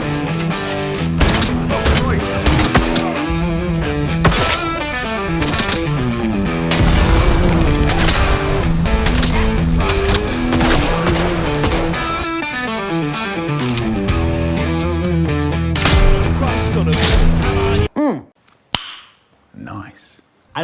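Gunfire from firearms in the video game Atomfall, loud bursts of shots layered over a dense, distorted in-game soundscape for most of the clip, then a sudden drop to quieter, scattered sounds near the end.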